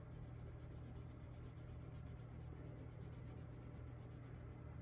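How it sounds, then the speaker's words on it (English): A gold Crayola colored pencil scratches across paper in quick repeated strokes, a faint, rhythmic rasping heard close up with no talking. "this gold is definitely scratchy"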